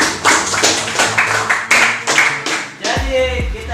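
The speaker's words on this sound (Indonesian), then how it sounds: "Tepuk tangan." Several bursts of hand clapping from a small group opening a short classroom debate on Indonesia Emas 2045, irregular and close, followed by a brief voice.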